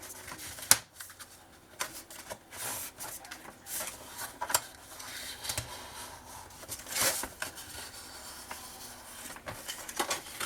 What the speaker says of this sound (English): let's do another fold a little bit further, maybe like 1/8 of an inch, and you fold that